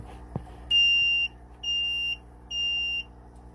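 Turn signal on an X8 mini bike gives three steady, loud high-pitched beeps, each about half a second long and evenly spaced, with quiet gaps between them.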